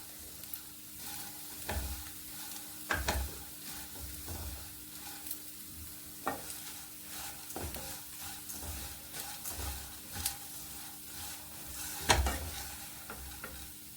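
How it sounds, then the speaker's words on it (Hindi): Flattened rice (chuda) roasts in a spoonful of ghee with a quiet, steady sizzle, while repeated stirring strokes scrape and tap against the pan every second or two. "हम लगातार चूड़े को चलाते रहेंगे। सिर्फ 1 चम्मच घी में ही हमारा चूड़ा अच्छे से भुन जाएगा।"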